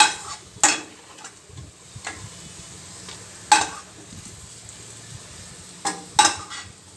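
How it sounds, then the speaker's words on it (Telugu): Sliced onions frying in oil until golden brown for egg biryani: a low continuous sizzle broken by several sharp clinks of a utensil against the pan, close and alone. "ఇవి మనం ఫ్రై చేసుకుని బాగా గోల్డెన్ బ్రౌన్ వచ్చేంత వరకు వేగనిచ్చి"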